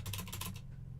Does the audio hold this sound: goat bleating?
no